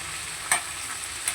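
Tomatoes with salt and turmeric stirred in a frying pan, making a light background sizzle broken by two brief scraping strokes of the spoon, with no talking.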